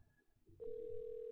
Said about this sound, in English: Please pick up the phone, George